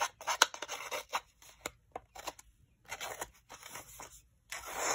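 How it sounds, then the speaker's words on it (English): Scissors cut, crunch and rip paper while distressing the edges of a craft piece, in short irregular bursts of snipping and tearing separated by brief pauses, close and clear with no talk. "I thought I might distress this a little bit more with my scissors."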